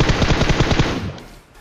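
A rapid burst of automatic gunfire in PUBG Mobile, loud and close, firing in a quick even rhythm for about a second before trailing off.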